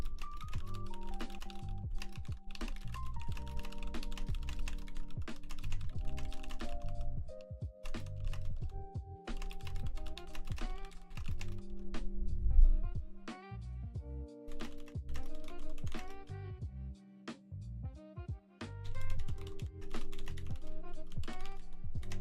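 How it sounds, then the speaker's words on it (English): Fast typing on a computer keyboard clatters in rapid, uneven bursts with brief pauses, close and clear against a soft background of music-like tones. "Typing too fast. I keep skipping my letters."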